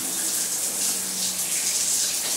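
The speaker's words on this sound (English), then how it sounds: "wet it with some water, work into a nice rich lather, and apply to the skin on your body." Tap water runs steadily into the hands while paper soap sheets are wetted for body wash, a continuous close hiss and splash with no talking.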